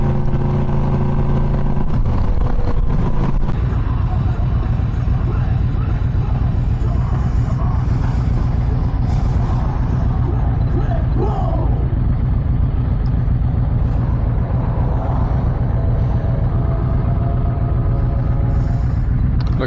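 Motorcycles pull away on a road during a long-distance ride to the Laconia rally, a loud, steady engine rumble with a sharp burst of noise early on, wind buffeting throughout.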